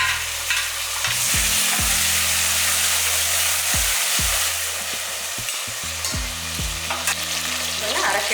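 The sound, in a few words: sautéing onions and tomatoes in a pan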